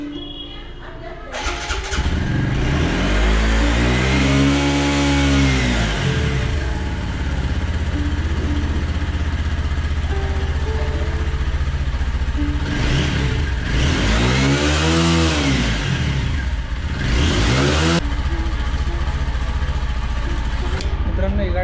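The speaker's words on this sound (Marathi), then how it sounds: "मित्रांनो ही गाडी जरा बऱ्याच दिवस पावसात होती, त्याच्यामुळे जरा चालू करून बघतोय मी." A car that sat for days in the rain cranks and catches, then its engine revs up and down in two strong swells over a steady loud idle, close by, with someone talking over it.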